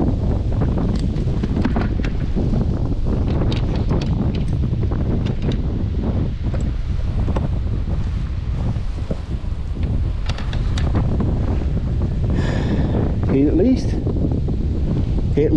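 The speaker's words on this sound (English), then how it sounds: "the wind's blowing me away from it now" Strong wind buffets a kayak on open water, a loud, continuous roar of microphone gusts that swamps the clip, with faint splashes and a voice briefly present under the noise.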